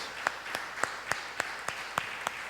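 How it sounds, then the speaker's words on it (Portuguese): A church congregation clapping in a steady, slow rhythm of single sharp claps about every quarter second apart, even and moderately loud over a hollow room tone. "Quer dar um lindo aplauso ao Senhor Jesus?"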